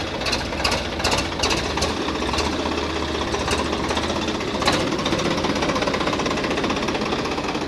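A 52 HP tractor with a 3307cc engine and a 12+3 side-shift gearbox runs steadily, its loud, continuous diesel clatter and rumble close by with no talking.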